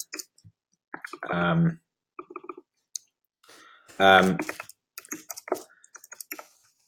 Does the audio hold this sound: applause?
no